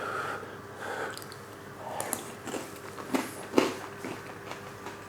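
Someone bites and chews toasted, crunchy cheesy garlic bread on top of onion soup, with soft crunches and mouth sounds close up, interspersed with breathing.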